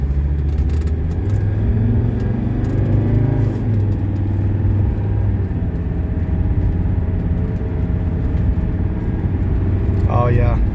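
A 1981 Mercedes 300SD driven fast through a series of turns, its steady engine drone and road rumble continuous and close throughout, with brief shifts in pitch as it takes the bends.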